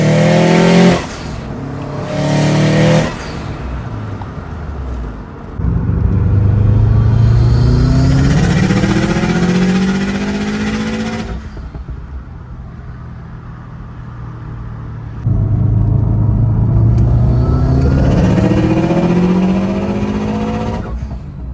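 A GD Subaru STI fitted with a 20G turbo, Cobb front-mount intercooler and TiAL external wastegate, heard from inside while cruising. The engine note climbs and falls through repeated gear pulls, with lulls of quieter droning between them.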